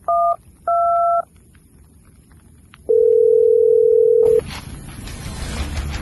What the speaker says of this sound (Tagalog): Wait lang, tawagan natin yung 911.